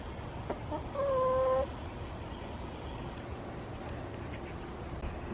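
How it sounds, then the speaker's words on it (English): A duck in a backyard coop with mulch on the ground gives one brief nasal call, fairly faint, against a low steady outdoor background with little else happening. "And 2 new ducks."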